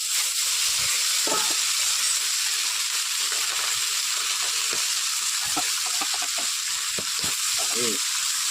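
Tilapia fish frying in oil in a pan on a gas stove, a steady loud sizzle and hiss throughout, with brief voices and kitchen clatter over it.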